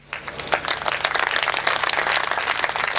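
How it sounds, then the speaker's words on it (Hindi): Audience applause at a Hindi poetry recital by Hariom Pawar, a dense steady wash of many hands clapping that starts sharply and holds loud and even for the whole stretch, with no voices over it. "कि जनता ताली बजाए।"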